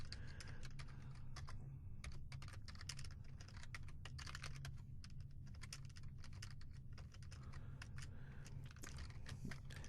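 Steady, irregular clatter of keys being typed on a computer keyboard to enter a command, close and alone over a low constant hum, with no talk.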